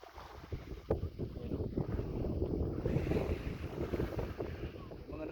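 Strong gusty, cold wind buffets the microphone at an Auckland beach, a rough continuous roar with surges, with water and surf faintly underneath.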